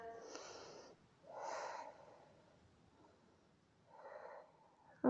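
Slow breaths drawn during an arms-back stretch in an exercise session: three soft, airy inhales and exhales spaced a few seconds apart, close and quiet, with no talking.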